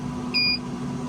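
A smoker's timer gives a single short electronic beep when finished, close and clear over a steady low appliance hum.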